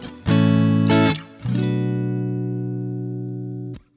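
A clean electric guitar with no pedal engaged plays a few strummed chords, the last one left to ring and sustain for about two seconds before being cut off.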